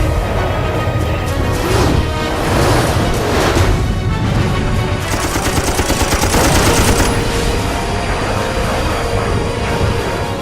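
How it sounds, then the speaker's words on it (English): Dense rattling bursts of .50 caliber machine gun fire with armor-piercing incendiary rounds slamming into a MiG's fuselage during a Korean War era dogfight, loud and continuous with booming impacts throughout. "50 caliber armor-piercing incendiary rounds slam into the MiG's aft fuselage."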